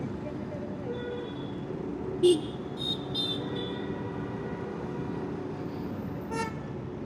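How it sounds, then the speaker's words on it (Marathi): Heavy nine-o'clock morning road traffic in a busy area rumbles steadily, broken by a few short car horn toots, some close and one farther off. "भरपूर ट्रॅफिकवाला एरिया आणि सकाळी नऊ वाजता पण ट्राफिक आहे"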